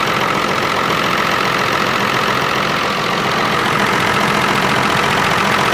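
Ford 7810 tractor diesel engine idling just after a cold start, a steady loud rumbling chug with a slight knock, close by and continuous with no talking.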